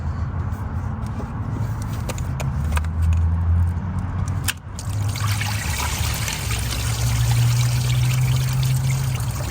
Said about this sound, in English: there's going to be a nice splash of coolant coming out of that thing